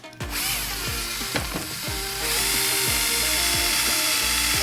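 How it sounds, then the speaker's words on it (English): A power drill pre-drilling a hole in wood for a stained glass frame, heard as a loud, close, sustained whirring motor with repeated pulsing drops in pitch and a harsher grinding tone as the bit bites. "So we are going to pre-drill our hole."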